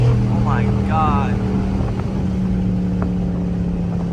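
A Dodge Charger RT with a 5.7 engine and no mufflers or resonators drones loudly and steadily while cruising on a highway, with a low throaty rumble heard from inside the car and a voice talking over it.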